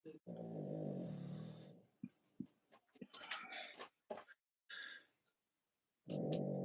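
A dog snoring indoors, with long rough rumbling breaths repeating in two bursts, separated by short gaps of small noises and some quiet shuffling.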